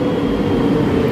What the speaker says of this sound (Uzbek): Keldi metromiz.